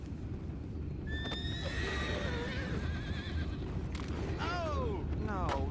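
Horses in a Red Dead Redemption 2 game scene whinny and neigh several times over a steady low rumble with clip-clopping hooves; the calls are fairly clear while the overall level stays moderate.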